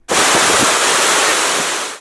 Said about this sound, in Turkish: yer aldığı vadide yeşillikler içinde süt beyazı renginde köpük köpük akan suyun oluşturduğu sesin kuş seslerine karıştığı Tomara Şelalesi ziyaretçilerini bekliyor